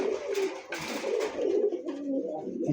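A pair of fancy pigeons, Mundian, Shoking, Modana, Lahori and Satin breeds, coo softly and repeatedly up close, with no talking.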